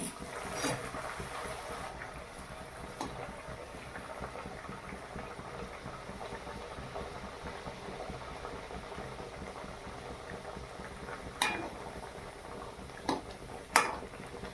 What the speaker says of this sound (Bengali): গরম হয়ে গেছে, এবারে কড়াইয়ে দিয়ে দিলাম পুরি